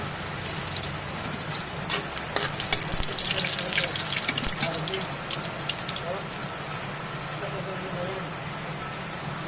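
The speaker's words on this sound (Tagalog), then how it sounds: "Lagay ko na sa bawang." Garlic hitting hot oil in a pan for pancit bihon with sardines, a constant rain-like hiss and crackle that runs steadily throughout, with a person talking over it.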